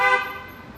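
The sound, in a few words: car horns honking in Mexico City traffic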